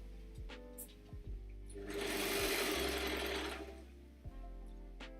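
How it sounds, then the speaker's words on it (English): An overlocker sewing side seams runs in a steady burst for a couple of seconds, a fast whirring mechanical hum with soft clicks and thumps before and after. "overlock the two side seams"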